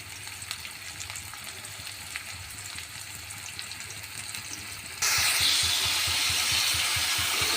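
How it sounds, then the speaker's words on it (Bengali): Onion and green chili frying in oil in a wok give a steady, close sizzle that jumps to a much louder, denser crackle for the last couple of seconds. "কড়াইতে তেল দিয়ে পেঁয়াজ কাঁচা ঝাল দিয়ে দিয়েছি"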